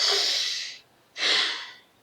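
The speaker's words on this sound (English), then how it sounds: "when we breathe in" Two slow, airy breaths in through the mouth or nose, close to the microphone, each lasting under a second, separated by a short quiet pause, with no talking.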